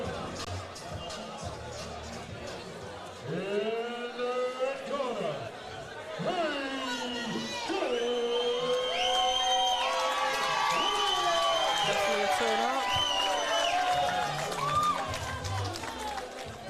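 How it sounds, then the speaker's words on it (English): A boxing crowd cheers and shouts as a fighter is introduced in the blue corner, a dense, swelling roar of many voices with whistles and yells rising and falling, and an announcer's voice over the noise. "He had quite a crowd reaction then."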